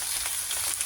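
Pechay greens sauté in a pan with a steady, close sizzle and faint crackle, heard briefly and alone.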